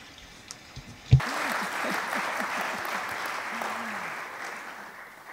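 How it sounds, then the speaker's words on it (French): An audience at a university prize ceremony breaks into sudden applause after a few quiet seconds, a dense, sustained wash of many hands clapping, with a voice briefly audible underneath. "Je crois qu'on peut applaudir."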